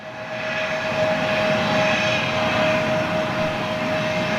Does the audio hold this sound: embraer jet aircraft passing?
yes